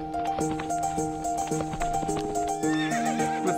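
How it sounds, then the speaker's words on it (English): Horses in the video game To The Moon neigh loudly and gallop with clattering hooves, layered over a sustained musical score throughout. "Oh no, the horses!"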